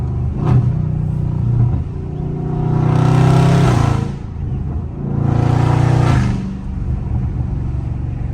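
A Dodge Scat Pack engine revs hard twice in long rising-and-falling surges, loud and close, with a lower idle rumble between the bursts.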